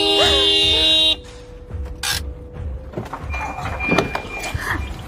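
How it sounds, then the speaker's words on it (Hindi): A car horn blasts in one loud, steady tone lasting about a second as a driver honks at a girl walking in the middle of the road. It stops abruptly, leaving quieter street noise with faint knocks and clatter. "कब से मैं हॉर्न दे रहा हूँ"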